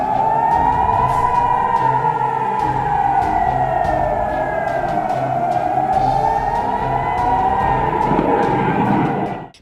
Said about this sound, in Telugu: సరిహద్దు గ్రామాల ప్రజలను సైరన్లతో భారత సైన్యం అప్రమత్తం చేసింది.